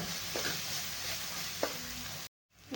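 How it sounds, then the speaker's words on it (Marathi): Spice masala roasting in oil in a pan, a steady close sizzle with a few soft stirring scrapes, briefly cutting out near the end before resuming. "थोडासा तेल सोडेपर्यंत आपण मसाला भाजून घेऊ"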